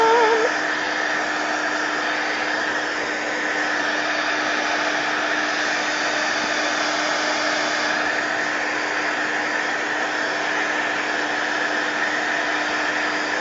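A hair dryer blowing on mixed media art pieces, a loud steady whirring roar running unbroken throughout.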